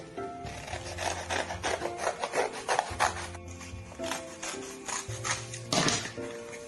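Scissors cut out a cardboard tree trunk for a children's family-tree craft. Rapid scraping snips and rustling follow one another in quick bursts, close and fairly quiet, with no talking.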